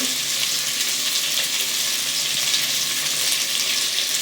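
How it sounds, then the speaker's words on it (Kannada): Onions sizzle with salt in a pan for Ambur chicken biryani, a loud, steady, close frying hiss that runs throughout with no talk. "ಈಗ ಸ್ವಲ್ಪ ಇದಕ್ಕೆ ಈರುಳ್ಳಿ ಬೇಯಕ್ಕೋಸ್ಕರ ಸ್ವಲ್ಪ ಉಪ್ಪು ಹಾಕೊತಾ ಇದ್ದೀವಿ"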